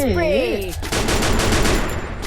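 Rapid gunfire bursts from the Free Fire battle royale mobile game, loud and continuous across the whole stretch, with game sound effects layered over the top.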